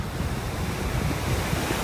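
Strong wind roars steadily across the microphone on a beach in North Naples, Florida, with surf washing underneath in a constant, unbroken rush.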